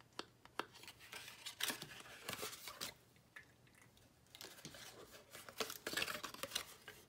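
Scissors snip through paper card while making a small memorydex card, a series of quiet, crisp cuts and rustles at close range, irregular in rhythm and without speech.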